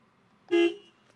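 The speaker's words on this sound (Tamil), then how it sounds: "ஹார்ன் எப்படி இருக்குன்னு கேட்போம்" A single short car horn honk from a 2025 Tata Tiago sounds sharply, near and clear against a quiet background.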